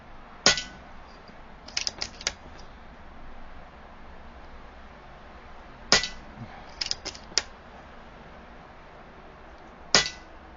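Rifle shots fired at a target 16 yards away during a OneLeaf NV500 night vision scope test: three quick groups of sharp, clanging cracks with faint ringing hits, separated by quiet outdoor hiss.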